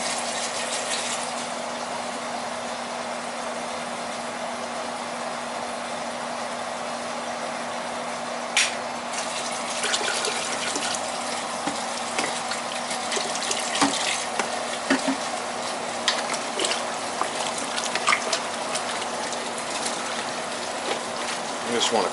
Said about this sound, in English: I'll put some water in this and rinse this container out, cold water